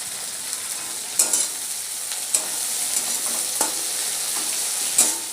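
Onions frying in a pan with ginger, garlic and chilli for a soya chunk and potato curry, a continuous sizzle with a few sharp spoon scrapes and taps, close and alone.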